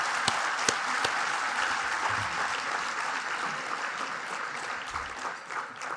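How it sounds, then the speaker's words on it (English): An audience applauds leaders at a US-Japan Council event, with continuous even clapping that holds steady for several seconds, a few sharper individual claps standing out near the start. "Please join me in applauding their extraordinary leadership and significant contributions to strengthening the US-Japan alliance"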